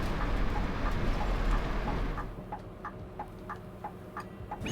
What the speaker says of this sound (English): The indicator's going, squeaky wipers going.